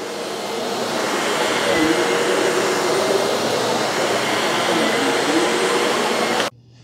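A Shark Navigator or Bissell CleanView upright vacuum cleaner runs on carpet with a loud, steady roar, close by, then cuts off abruptly near the end.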